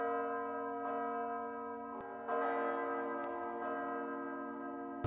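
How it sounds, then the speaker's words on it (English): Sustained tolling bells from the Death Note anime ring out with rich, layered harmonic tones and a fresh strike midway that swells the sound, heard alone without talk. "You hearing the bells, bro."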